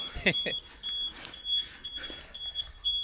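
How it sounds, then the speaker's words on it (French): A Tesla's anti-lift alarm emits a series of short, high electronic beeps at a steady pace, with a brief voice and some handling noise underneath, as the car is lifted for repair. "Ah, alarme anti-soulèvement."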